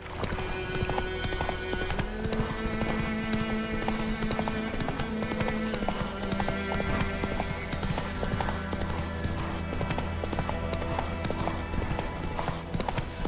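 Horse hooves gallop in a steady rapid clip-clop in The Witcher 3, loud and continuous throughout, layered over game music and ambience.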